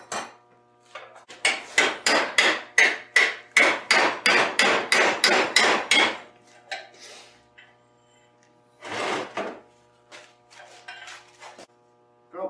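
Pressing a meteorite knife billet while forging, a fast run of about a dozen loud, evenly spaced metallic blows, then a brief second burst after a pause, close and ringing with no talk.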